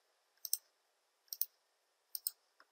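Computer mouse clicks while drawing slab contours in structural analysis software, three pairs of quick sharp double clicks spaced about a second apart and one last single click, close and quiet, no talking.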